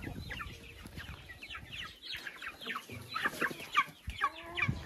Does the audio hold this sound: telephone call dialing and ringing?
no